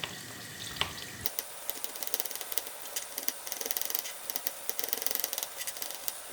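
Eggplant fries in a pan: a soft hiss at first, then a busy crackling sizzle with rapid pops, close by and steady.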